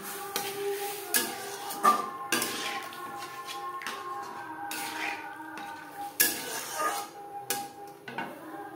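Boiled masoor dal being added to a pan and stirred, with repeated metallic clinks and scrapes of a spoon against cookware at an uneven rhythm, under intermittent talk.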